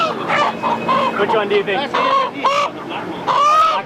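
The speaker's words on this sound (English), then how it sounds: "you get to choose your own chicken, live chicken" Live chickens cluck and squawk loudly and close by in a market setting, with excited, overlapping calls throughout, while a person briefly speaks over them.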